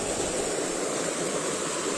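Clear river water flowing steadily over rocks, a continuous broadband rushing with no break, close and fairly loud, no voices.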